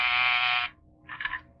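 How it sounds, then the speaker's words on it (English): A door buzzer in a 1946 radio comedy sounds once in a long, loud, steady burst of about half a second, then a shorter, softer buzz follows after a brief pause. "That's the door buzzer."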